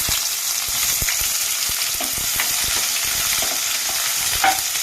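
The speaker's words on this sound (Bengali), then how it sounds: "এবার এতে কেটে রাখা পেঁয়াজগুলো দিয়ে দেবো" Chopped onions frying in hot oil with cardamom and cinnamon in a pan, a steady sizzle broken by repeated scraping strokes of a spoon stirring, close and moderately loud.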